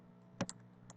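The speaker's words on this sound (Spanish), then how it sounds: "Este teclado está que me vuelve loca." Keystrokes on a computer keyboard: a few separate clicks, one stronger tap then a couple of lighter ones, near and fairly faint against a quiet room, with no talking.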